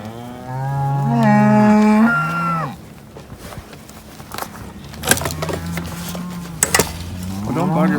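Cattle being gathered into corrals before being sent back to Rio Grande for the winter give a long, loud, close moo, followed by quieter shuffling and a couple of sharp knocks.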